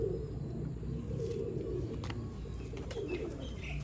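Colonel-breed Sialkoti pigeons coo in low, murmuring tones under a steady hum of background noise, soft and continuous with a few brief sharper sounds.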